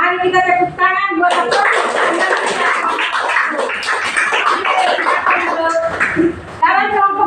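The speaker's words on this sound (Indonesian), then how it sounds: "Mari kita tepuk tangan buat" Classroom applause from a group of students, a dense burst of many hands clapping together for several seconds, bracketed by a teacher's voice speaking before and after.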